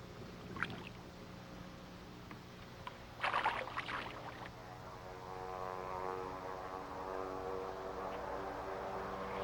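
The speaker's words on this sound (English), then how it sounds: "The morning silence is broken by the sound of a plane." A small propeller airplane approaches over the Alaskan wilderness, its faint, distant drone gradually growing and steadying after a few brief knocks and rustles nearby, with no talking.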